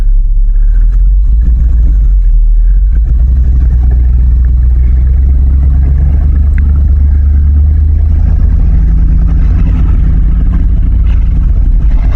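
A truck engine labors and revs steadily while dragging a heavy log uphill, a loud, continuous low rumble with no talk over it.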